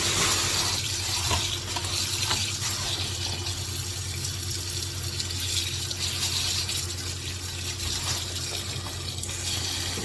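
Cold tap water running steadily over black quartz aquarium sand being washed through a sieve, a continuous close rushing splash with no talk.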